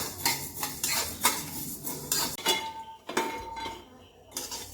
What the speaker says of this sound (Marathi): ह्याच्यासाठी पाव वाटी धणे भाजून घेणार आहे